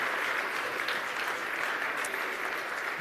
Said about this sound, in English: Everybody, please, a round of applause